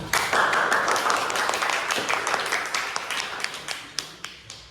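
An audience at an Islamic religious lesson claps together in a steady burst that carries on for several seconds, the individual hand claps close and distinct throughout.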